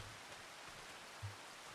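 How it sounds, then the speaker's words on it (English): Steady rain falls outdoors on a farm where hay bales are being made by hand, a soft continuous wash of drops with one brief low thump near the end and no voices. "Hopefully the rain will stop."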